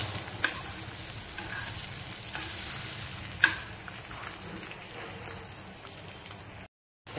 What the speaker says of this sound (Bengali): এটা একটু কষে নেব।